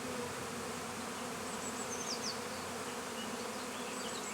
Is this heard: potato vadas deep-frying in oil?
no